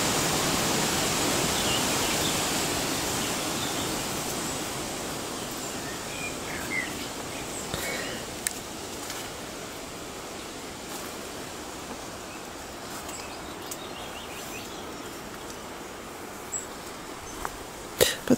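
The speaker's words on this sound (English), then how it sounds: "You can hear the storm just beginning to make its way in from the ocean." A broad roar of wind and surf from a storm moving in off the ocean rises and washes continuously, loud at first and easing slightly, with a few faint clicks near the end.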